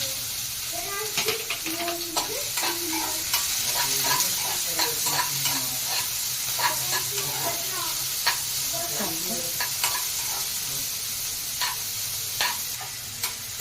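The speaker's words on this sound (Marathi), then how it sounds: "मिरची परतली की त्यात चिरलेला कांदा घालूया" Chopped onion and chillies frying in a pan, a steady broadband sizzle with frequent stirring clicks and scrapes of a utensil, close and continuous throughout with no one talking.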